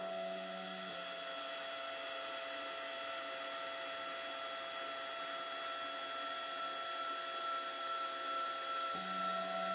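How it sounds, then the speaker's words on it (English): A CNC router with a dovetail bit routs pockets for sliding dovetail joints in the wooden bottom of a jewelry box, a steady, faint, high-pitched whine that continues evenly throughout, with a slight tonal shift near the start and end. "a dovetail bit is mounted in the CNC router and is being used to route the pockets for the sliding dovetail joints"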